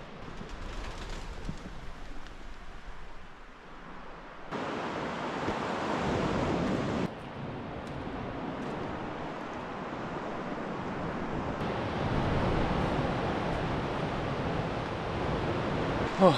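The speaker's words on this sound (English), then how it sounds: "that is the ocean just down there" Ocean waves surge and wash through a rock cave near the coast as a steady, faint broadband rush, with shifts in intensity and some wind noise on the microphone.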